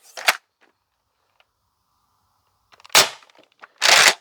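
A modified Dart Zone Pro MK4 blaster fires foam darts over a chronograph: three sharp, loud cracks up close, one alone and then two close together after a quiet gap.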